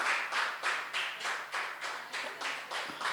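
Audience applause at a Dev Festival award ceremony, a steady burst of rhythmic group clapping in regular pulses, close and fairly loud, with no voices over it.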